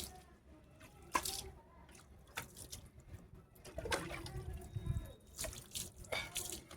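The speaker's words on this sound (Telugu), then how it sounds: "కదరా చింబు నీకు లాలు పోస్తుంటే" Water is poured over a baby during a bath at home, splashing and trickling in several separate bursts, close and moderately loud, with small clatters and handling noises between the pours.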